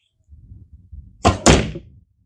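A Simpleshot Hammer XT bowsling fires one shot: a quiet rustle of drawing, then two close, loud thwacks in quick succession as the projectile releases and strikes, followed by silence.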